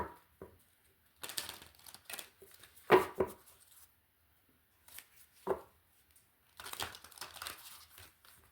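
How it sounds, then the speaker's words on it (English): Soft papery shuffling and riffling of tarot cards in short bursts separated by quiet pauses, close up. "Let's shuffle."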